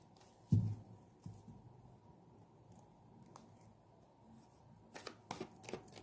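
Tarot cards are shuffled and handled quietly, with a soft burst near the start and a few light flicks and riffles later, all faint and close. No one speaks.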